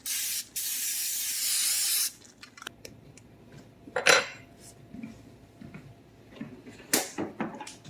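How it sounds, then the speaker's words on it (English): A loud two-second hiss of cooking oil spray onto a skillet, then quiet clinks and scrapes of the pan and utensils with a few sharp metallic knocks. "I'm going to take some oil and I'm going to spray the edges of my pan"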